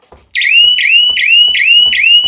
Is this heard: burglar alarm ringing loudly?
yes